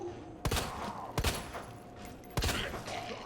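Three sharp, loud 1911 pistol shots fired in the Resident Evil 2 remake, spaced about a second apart, each a bright broadband crack with a short tail over a low game ambience.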